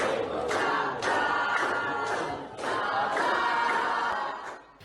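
Students at a senior high school in Palembang singing together to welcome the Vice President, a steady, loud massed crowd of voices with rhythmic swells and a fade at the end.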